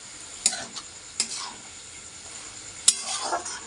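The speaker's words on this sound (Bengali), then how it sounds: "চর্বিটা দেখো এখানে আমি ভাজতে দিয়েছি" Goat fat fries in a pan with a low, steady sizzle, punctuated by three sharp clinks of a utensil striking the metal. There is no speech.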